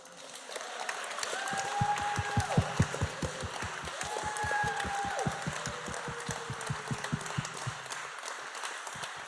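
Audience applauding at a memorial service, a broad steady wash of clapping that swells and carries on for several seconds, with a tone or voice faintly underneath.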